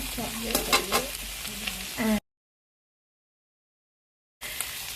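Beef with onion and ginger stir-fries in a hot pan, with loud sizzling and stirring scrapes that stop abruptly partway through. After a brief silence the frying resumes. No voices are heard.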